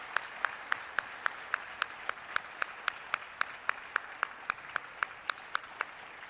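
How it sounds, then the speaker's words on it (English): Slow, sparse clapping at a 2022 South Carolina African American History Calendar unveiling ceremony, about two dozen evenly spaced, distinct claps from one or a few people, fairly faint in a quiet room. "Let's give them all a big round of applause."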